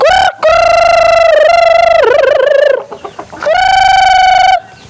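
Chickens being fed let out loud, drawn-out calls close by, two long strained cries broken by a short burst of softer clucks.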